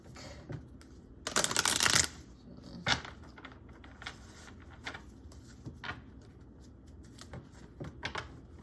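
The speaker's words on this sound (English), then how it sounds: "Just shuffling these, putting them away." A deck of cards is riffled in one loud burst, followed by quieter scattered taps and shuffles of cards being squared and handled nearby.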